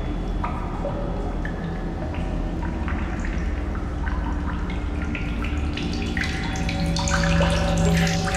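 Steady running and splashing water at a fresh water source in the game The Solus Project, a continuous close wash with small drips and burbles throughout.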